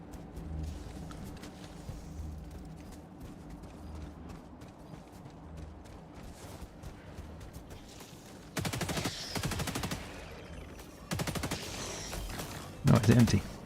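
A gun with a slight wind-up fires in Helldivers 2, letting off two rapid, loud sustained bursts that stand out over quieter background game noise, followed by a sharp closing burst.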